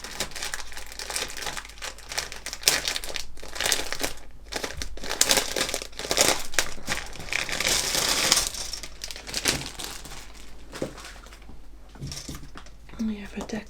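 Plastic bag crinkling and rustling as model kit parts are handled for a Special Hobby 1/72 scale DH Mosquito PR Mk.XVI, a steady close crackle with bursts, under a voice.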